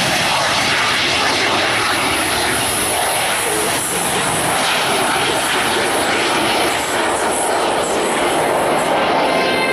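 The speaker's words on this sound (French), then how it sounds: "Ces avions, qui sont des avions de chasse, utilisés auparavant par la patrouille de France pendant plusieurs années" Former Patrouille de France fighter jets, now civilian-owned, thunder over an airshow at Guiscriff in a steady, loud, close roar that fills the whole stretch without a break.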